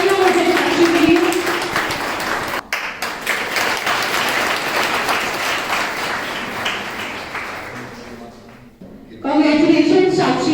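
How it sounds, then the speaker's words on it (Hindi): Applause from an audience at a college spring festival award ceremony, with broad dense clapping running through most of the clip, a brief dip, and voices talking over it near the end. "जोरदार तालियां हो जाए साक्षी के लिए।"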